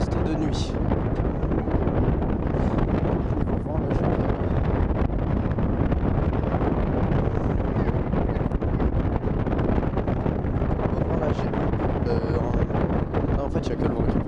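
Steady, roaring wind buffets the microphone on the Shambhala roller coaster at PortAventura at night, a loud continuous rush with faint voices buried beneath it.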